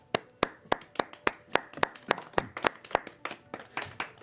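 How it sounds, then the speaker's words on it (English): A carnival crowd claps in a loose, steady rhythm, each sharp clap distinct and fairly close, roughly three or four per second with slight unevenness, heard alone without talk. "takes a deep bow as the crowd begins to clap"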